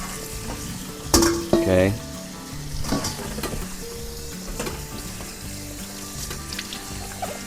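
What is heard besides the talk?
draining water off peeled potatoes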